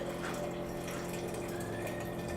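Brewed coffee pours steadily into small glass mason jars, a continuous close liquid stream with a faint tonal ring as the jars fill, no voices.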